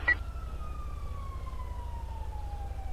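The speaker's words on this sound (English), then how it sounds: "Who's running sirens?" A police car siren wails in the Cops Online video game, a single long descending tone sliding downward over a low, rhythmic engine throb, fairly close and steady.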